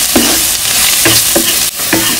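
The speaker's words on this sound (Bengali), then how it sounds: "রসুন কুচিগুলো একটু ভালো করে ভেজে নিই।" Chopped garlic sizzles in a pan during simple village cooking, with loud broadband frying hiss and several distinct scraping stirs of a spatula at uneven intervals, close and steady with no talking.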